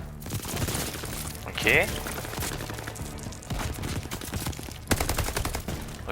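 Dense, continuous automatic and single-shot gunfire from a Call of Duty Vanguard online match, with repeated loud bursts and sharp cracks throughout, mixed with game effects while a player speaks briefly over it.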